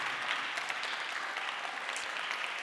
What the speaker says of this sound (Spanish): Vamos, fuerte ese aplauso,